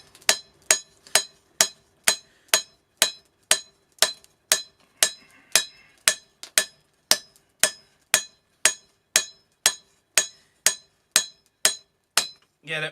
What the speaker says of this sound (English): Alright, I'm switching over to my other hammer.